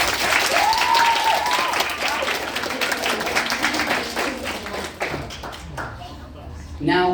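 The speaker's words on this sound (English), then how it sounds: "Round of applause, please." A group applauds in a room with dense, sustained clapping that thins out toward the end, mixed with a few thumps and taps, while a voice talks over the clapping.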